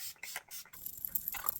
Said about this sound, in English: Spray my face with this.